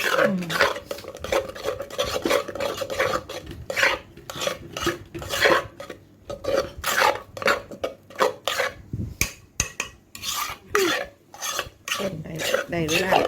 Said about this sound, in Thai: คนนะคะ